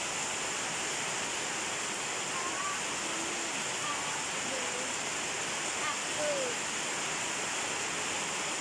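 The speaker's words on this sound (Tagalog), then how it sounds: "Lakas ng ulan." Heavy rain from Typhoon Rolly pours in a backyard, a constant dense hiss of falling water with a few faint voices speaking beneath it.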